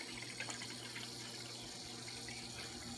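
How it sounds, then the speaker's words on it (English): Water pours from a Whirlpool refrigerator door dispenser into a container in a faint steady stream with no talking. "I'm gonna get some water, and even we'll count how many ounces I'm getting."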